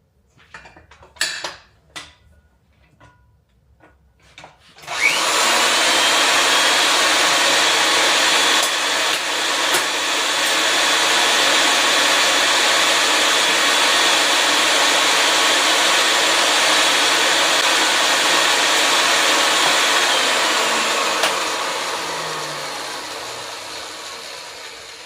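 A pipe threading machine cuts threads onto pipe. After a few scattered clanks, a steady motor whir with grinding starts abruptly, runs loud and continuous for about fifteen seconds, then winds down.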